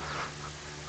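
Cartoonish duck quacks from a multiplayer party video game, a short sustained quack over a steady electronic hum.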